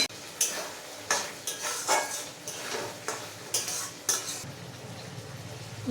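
A spoon stirs fried potatoes into a sizzling spiced masala for a vegetarian chhana kofta curry, scraping the pan in about nine rhythmic strokes over a soft, steady frying hiss.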